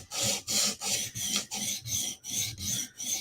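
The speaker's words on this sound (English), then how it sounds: "we're just going to sharpen here." A blade edge is sharpened at the bevel with a file or stone, producing a steady run of rasping back-and-forth strokes, about nine in total, close and even in rhythm.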